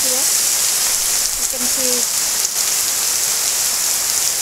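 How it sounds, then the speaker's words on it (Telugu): Heavy rain pours steadily onto a large garden, a dense even hiss filling the whole stretch, with a brief voice sounding over the downpour. "చాలా హెవీ రైన్ చూస్తున్నారు కదా, ఎంత హెవీ రైన్"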